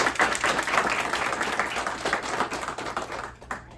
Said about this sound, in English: let's give a round of applause to Lily and this.